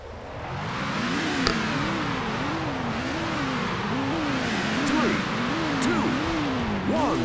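A Porsche 911 in Need for Speed High Stakes revs its engine in repeated wavering surges, rising and falling in pitch, with a steady game soundtrack underneath. A voice talks over it in places.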